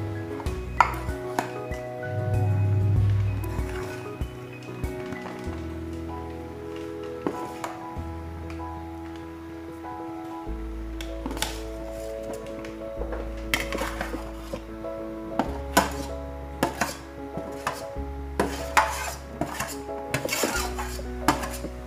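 Mashed potato and peas being stirred into spices in a pan, with a spoon scraping and clinking steadily against the metal, close and moderately loud, occasional sharper knocks.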